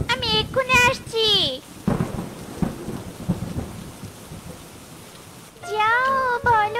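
Cartoon rainstorm: a steady downpour hiss with rolling thunder through the middle, framed by animated character voices at the start and end.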